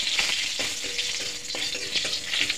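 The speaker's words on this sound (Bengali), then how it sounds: "সাদা জিরে দিয়ে দেবো কটা, দুটো তেজপাতা দিয়ে দেবো। এখন ভালো করে নাড়ি চাড়িয়ে নেব" Cumin seeds and bay leaves frying in hot oil while being stirred, giving a loud, close, continuous sizzle with a few soft scraping strokes.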